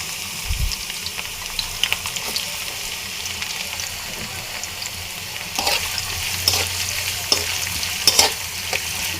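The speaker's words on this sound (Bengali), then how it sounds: "তেলটা আমার গরম হয়ে গেছে এর ভিতরে দিয়ে দেব পেঁয়াজ কুচি" Chopped onion dropped into hot oil, frying with a steady broad sizzle and occasional stirring knocks, close and moderately loud, no talk.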